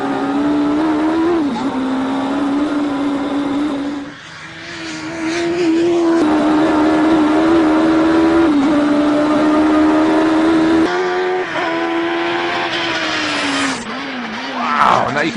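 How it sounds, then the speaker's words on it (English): Pro-Motive Mini race car with a Yamaha R1 motorcycle engine, driven hard on track: a loud, close, high-revving engine howl with sharp gear changes, a brief drop in power as it brakes hard, then revs climbing again. "now you can really see Bill hitting the brakes hard for this big stop."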